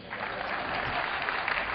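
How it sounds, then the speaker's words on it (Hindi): Applause from the audience at a Hindi comic poetry gathering (kavi sammelan) at a medical college in Lucknow, dense and steady clapping filling the whole short stretch. "एक बार इस मेरे स्वागत में ताली बजा दीजिए।"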